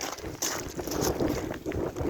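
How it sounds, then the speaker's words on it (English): Strong outdoor wind roars and buffets the microphone in loud, continuous gusts, with no voices heard. "As you can see, it's very windy."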